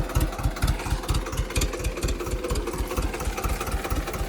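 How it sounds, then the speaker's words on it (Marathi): A Swaraj 724 tractor engine runs in low gear with a loud, close, rhythmic diesel chug of quick, even pulses that continue without a break and no speech over them. "पहिला लो मध्ये ट्रॅक्टर"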